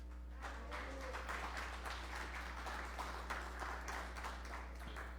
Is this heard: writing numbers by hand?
no